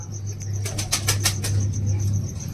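A close burst of rapid wing flaps lasting under a second, over a steady low hum and a faint high-pitched tone.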